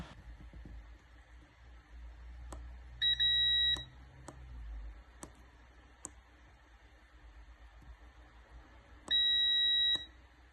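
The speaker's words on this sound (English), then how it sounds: "test the existing button with a multimeter on continuity, and when we press the button it should beep" Two steady electronic multimeter continuity beeps as a car key fob button is pressed, each under a second, several seconds apart, over faint clicks and quiet background hum.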